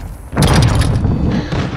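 A mortar strike explosion in the Call of Duty Warzone 2 video game lands as a sudden loud, close boom that rolls into a rumbling tail lasting over a second.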